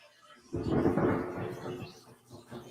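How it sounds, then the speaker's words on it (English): Thunder rumbles during a rainy spell in Indiana, a low rolling swell that rises suddenly, holds for about a second and then slowly fades with a faint after-rumble. "Is that thunder, Larry?"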